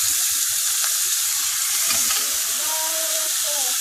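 Seasoned shrimp sizzle steadily in a little hot oil, a close, continuous crackling hiss with scattered pops, no talking.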